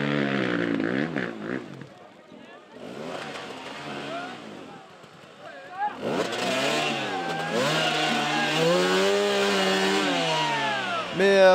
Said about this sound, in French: Il se bat avec lui-même, il se bat avec sa moto, Anthony Baz.